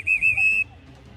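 A referee's whistle gives one sharp, shrill blast lasting just over half a second, loud and close, then cuts off into quiet room noise.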